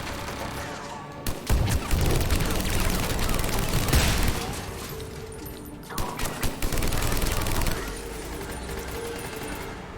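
Heavy automatic turret gunfire in Mass Effect bursts loud and close in long sustained volleys, broken by a brief lull before another barrage resumes.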